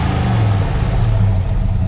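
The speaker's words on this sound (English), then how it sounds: "It sounds good. Rev it up." A 1968 AMC AMX with a 390 V8 revs hard, its deep exhaust roaring loud and close in one steady throaty burst.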